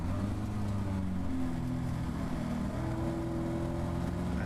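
A Caterham Academy race car at Donington Park gives a continuous engine drone under load as it pulls up a hill in third gear. Harmonic tones rise and shift steadily, recorded close from onboard, with no talking.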